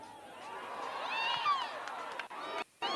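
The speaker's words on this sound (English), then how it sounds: "The crowd intensifies there." Football crowd at a Nicaraguan league match between ART Jalapa and Real Estelí FC, a distant swelling roar of cheering and whistles that rises midway and stays loud, briefly cutting out near the end.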